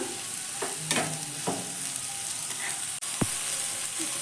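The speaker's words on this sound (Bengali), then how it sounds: "তো পেঁয়াজ আর লঙ্কাটাকে দিয়ে দিচ্ছি আলু গাজরের সঙ্গে পেঁয়াজ লঙ্কাটাকেও ভেজে নেব" Onion and green chili fry in oil alongside potato and carrot, a steady sizzle broken by scraping stirs and a few sharp clinks of the spatula against the pan.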